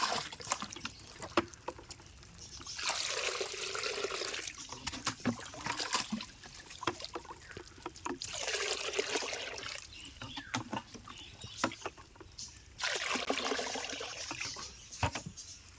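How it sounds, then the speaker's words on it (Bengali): Water poured into a container holding molly fish, coming in three separate pours of a few seconds each with quiet gaps and small splashes between them. "আমি একটু জল আরও দিয়ে দিই মধ্যে।"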